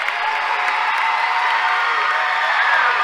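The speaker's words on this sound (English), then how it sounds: "Ballard gets this Trojans crowd going." A Trojans basketball crowd roaring in a gym, steady loud cheering and applause sustained without a break.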